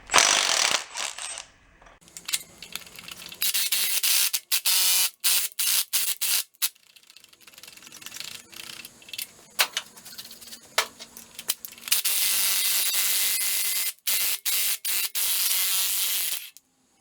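A hand ratchet removes head studs from a flooded 1958 Volkswagen Beetle engine, clicking in rapid, close bursts broken by short pauses between turns.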